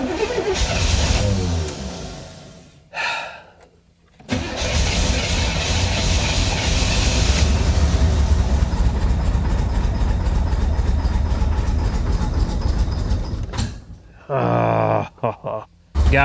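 A flood-damaged Florida swamp Corvette engine runs and revs hard with the pedal floored while it smokes. The roar is loud and close, with brief drops around the third second and near the end.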